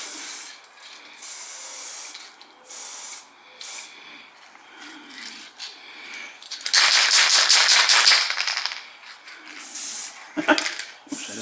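An aerosol spray paint can, used for weathering model railroad gondolas, lets out one sustained close hiss of about a second and a half, followed by a shorter burst amid quiet handling noises.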